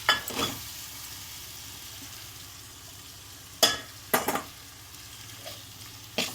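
Cooked rice tossed into a hot pan of lemon rice seasoning, giving a steady low sizzle with a few sharp spoon-on-pan scrapes and stirs spaced through the clip, no talking.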